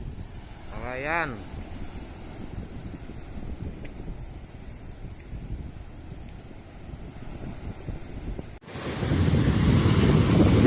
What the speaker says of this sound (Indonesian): Ternyata ombak masih besar bro.